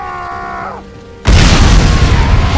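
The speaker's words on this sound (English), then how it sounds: "Bombs away!" A bomb blast in the video game Sniper Elite 5 sets off a sudden loud, deep boom, then a sustained roar that follows a short tonal game sound.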